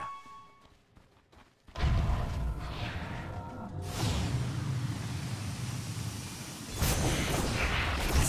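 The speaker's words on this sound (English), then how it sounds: "explosion!" Explosions in the video game Dota 2: a loud blast bursts in after a quiet opening, followed by a sustained rumbling roar and a second strong impact near the end.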